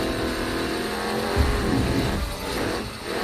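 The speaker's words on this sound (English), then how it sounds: "You hear that beautiful metal on asphalt sound?" A car engine revs and drones in the racing video game Grid Autosport, with a harsh, grinding scrape of metal rims dragging on asphalt, rising briefly in loudness midway.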